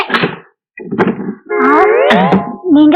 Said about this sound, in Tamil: உன் இதே கதவை நான் தான் தட்டுவேன்